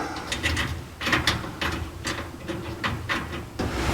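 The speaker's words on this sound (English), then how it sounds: "tighten it down with a 7/16" socket" A 7/16 inch socket ratchet tightening nuts onto studs during a steering column install on a 1949 Chevrolet gasser, a close series of rapid clicking ratchet pulls in bursts with metallic ticks between them.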